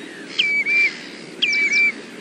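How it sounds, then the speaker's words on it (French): Wood sandpiper calls twice, each a sharp, bright whistled note that rises and then holds flat, cleanly separated over steady low background noise. "Tuit-tuit-tuit-tuit ou titi-titi-tit. Très rapide, c'est le chevalier sylvain."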